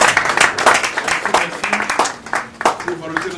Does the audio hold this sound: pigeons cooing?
no